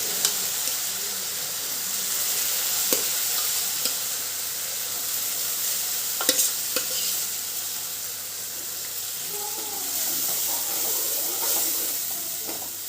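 Cooked dal being stirred into a sizzling fenugreek tempering for methi lemon dal, giving a steady close hiss and crackle with a few sharp spoon scrapes against the pot and no voices.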